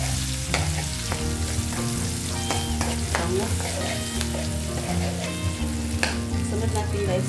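Garlic sautéing in a pan for a bagoong alamang and eggplant dish gives a steady sizzle with stirring scrapes, sitting under continuous background music.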